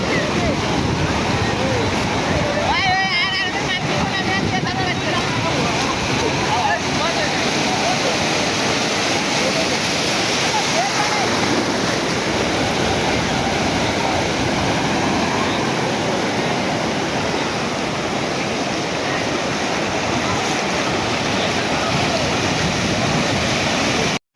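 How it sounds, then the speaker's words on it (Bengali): Ocean waves break on Kuakata beach in Bangladesh, a loud, steady roar of surf that runs unbroken throughout with no voices. "ঢেউ আসতেছে দেখেন।"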